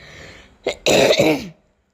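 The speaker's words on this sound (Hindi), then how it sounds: "जब मैं वॉइस ओवर करने बैठती हूँ ना तो मुझे खांसी ना चाहते हुए भी ना हो ही जाती है" A single throat-clearing cough up close, a brief rasp followed by a harsher hack that trails off into quiet.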